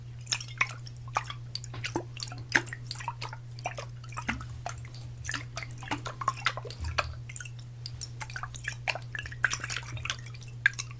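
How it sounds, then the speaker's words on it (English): Water dripping in a quiet room, a string of close, crisp irregular drips and small wet squishes over a low steady hum, with no speech. "Water. It's a liquid, really."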